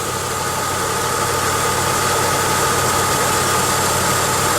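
A coat hanger rattles against the shaking engine of a 1995 Pontiac Grand Am, a steady metallic buzz and chatter riding on the idling motor, loud and close throughout with no break.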